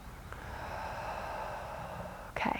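A long, steady exhaled breath during a core exercise, close and breathy, holding evenly for about two seconds before a sharper snort-like burst of air at the end.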